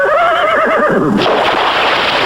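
A horse neighs loudly and close, a wavering whinny lasting about a second, followed by a broad rushing noise, with faint hoof clops beneath.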